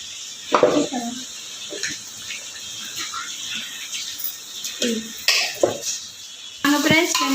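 Onions sautéing in a pan for a Tamil fish curry, a quiet hiss of frying under metallic spoon scrapes and clinks against the pot, with a voice speaking at times.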